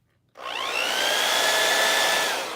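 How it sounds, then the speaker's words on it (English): A blow dryer switched on at hot and low aims air at a Vega 64 graphics card, starting abruptly and holding a steady, loud whooshing roar with a faint whine, alone without talk. "The magical blow dryer appears out of nowhere."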